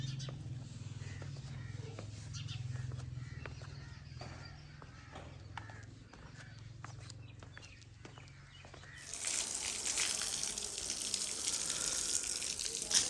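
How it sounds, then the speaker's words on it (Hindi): Water is sprinkled on the ground of a village home in Punjab before sweeping, soft splashing and patters at close range that turn into a louder steady gush near the end; no one talks. "सुकून घर की सफाई से पहले पानी का छिड़काव किया जा रहा है।"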